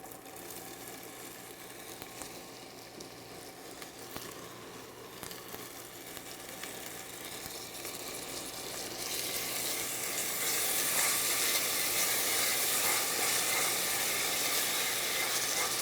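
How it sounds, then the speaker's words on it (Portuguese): Leftover onion and garlic sautéing in hot olive oil for a rice dish, a close, steady sizzle that swells louder partway through, with occasional clicks and scrapes of stirring. "a gente vai aquecer o azeite e fazer um refogado com a parte que sobrou da cebola e do alho"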